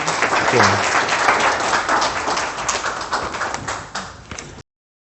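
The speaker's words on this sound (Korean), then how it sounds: "박수로 맞아주시면 감사하겠습니다" A breakfast forum audience claps to welcome the YBM chairman, a dense burst of applause that thins out and stops abruptly.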